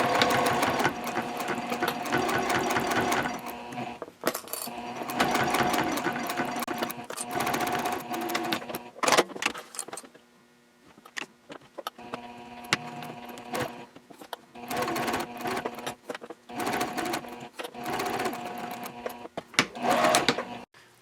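Sewing machine stitching a card slot panel for a Hannah Sling bag at a 3.0 stitch length, running in steady bursts with brief pauses between, close and fairly quiet with no talk.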